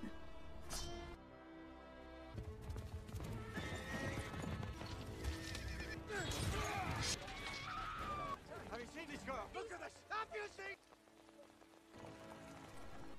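Film battle scene with a horse galloping hard, hooves clip-clopping in a steady fast rhythm while the horse neighs and whinnies loudly, all under a dense dramatic score with a voice speaking over it.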